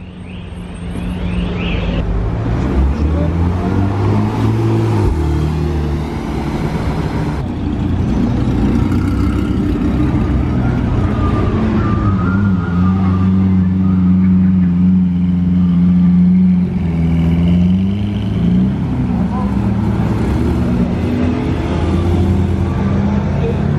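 Supercars and hypercars, including a Mercedes-AMG 65, rev and accelerate past one after another in Juan-les-Pins, a loud continuous roar with rising and falling pitch.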